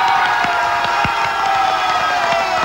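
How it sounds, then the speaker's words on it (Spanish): A game-show audience cheers and applauds contestant number two, a dense, steady roar of clapping and shouting that stays loud and unbroken throughout. "Aplausos para el participante número dos."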